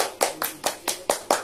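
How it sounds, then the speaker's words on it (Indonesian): A small class claps together in a slow, even rhythm, six or seven distinct group claps spaced about a fifth of a second apart, close and moderately loud, with no talking. "Oke, tepuk tangan untuk kalian."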